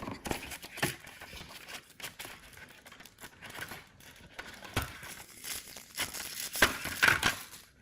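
Packaging crinkling and rustling as a parcel is unpacked one-handed, close and uneven, with sharp crackles and tears in irregular bursts.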